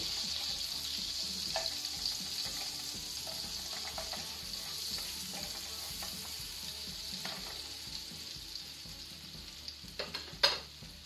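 Butter melting over a low flame in a pan for honey garlic chicken fry gives a steady soft sizzle and frying hiss, with faint stirring scrapes and a couple of sharper clinks near the end; no one speaks.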